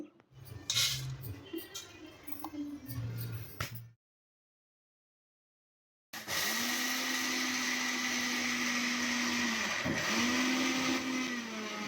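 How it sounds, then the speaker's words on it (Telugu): A few clatters and short motor bursts give way to a mixer grinder whirring steadily at high speed grinding peanuts into fine powder, its pitch dipping briefly once as it grinds. "ఇలా పల్లీలను మెత్తగా పౌడర్ లాగా చాలా సన్నగా మిక్సీ వేసుకొని పెట్టుకోవాలండి"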